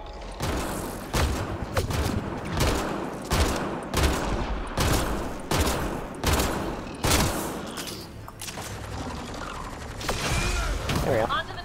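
Gunfire in Mass Effect: Andromeda, loud sharp bursts repeating roughly every second, about ten shots in a steady rhythm, with mechanical clanks and a faint voice in between.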